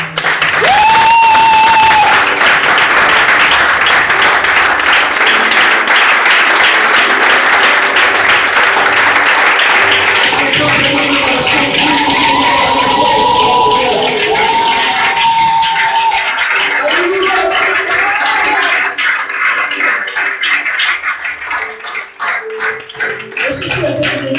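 A church congregation applauds and acclaims Jesus with loud, sustained clapping and cheering that fills the room, along with a few raised voices, before it slowly thins toward the end.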